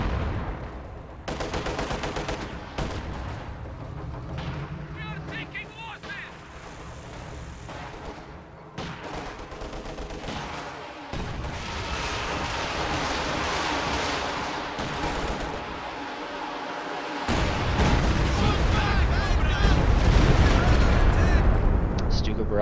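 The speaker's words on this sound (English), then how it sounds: "Barrage completely off target again." Repeated artillery and gunfire blasts from a World War II strategy game battle involving Soviet forces, T-34 tanks and infantry, rumbling continuously and growing louder toward the end, with a commentator talking over the barrage.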